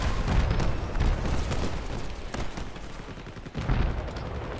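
A vehicle-mounted weapon fires in the Crossout vehicle combat game, with heavy booming bursts and rumbling blasts, near and loud, swelling and easing in waves.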